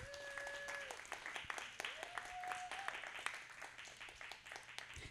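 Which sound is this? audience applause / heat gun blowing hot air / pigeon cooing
audience applause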